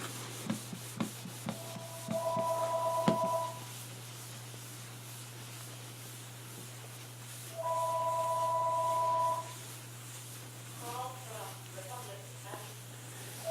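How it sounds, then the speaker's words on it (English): Paper towel rubbed over scratched wooden woodwork during a temporary scratch cover-up, giving soft, close scrubbing bursts in a few short strokes over a steady low hum, with faint tonal beeps between. "I just rub with a paper towel"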